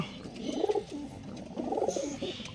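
Two low, soft pigeon coos rise and fall one after the other, fairly close, over faint background noise.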